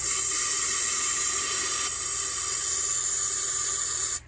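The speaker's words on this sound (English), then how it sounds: "If I turn that on, I should have cold water." A newly plumbed cold water pipe being opened for the first time, water and air rushing out in a steady loud hiss, ending abruptly as the flow stops.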